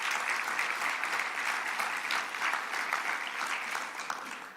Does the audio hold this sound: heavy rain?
no